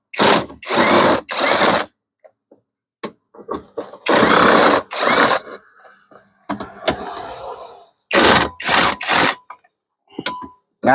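A ratchet works nuts loose on the air conditioner of a 2003 Isuzu D-Max, giving loud, close mechanical bursts of rapid clicking separated by short pauses and quieter handling noises.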